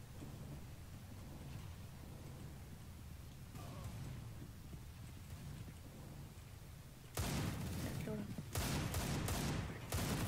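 Gunfire from the video game Counter-Strike: Global Offensive comes as rapid bursts of shots, faint at first and then louder in two bursts over the last few seconds, with low background voices.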